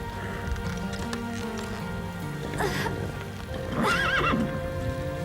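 A cartoon horse gallops with rapid clip-clop hoofbeats, then lets out two loud, high neighs over a soft rainy background hiss.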